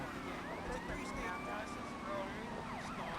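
Police car sirens wail in the video game GTA Vice City Definitive Edition, several overlapping rising and falling tones at moderate volume over a steady background of traffic and game sound.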